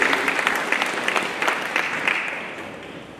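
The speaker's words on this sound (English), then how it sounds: "People, please, why are you not giving them a clap?" An audience at a co-operative society's annual general meeting claps steadily for several seconds, the applause moderately close and gradually thinning out toward the end.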